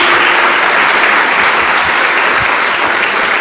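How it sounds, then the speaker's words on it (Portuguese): A church congregation claps loudly and continuously in a dense, even wash of applause, with almost no speech. "Dê uma salva de palmas a Jesus."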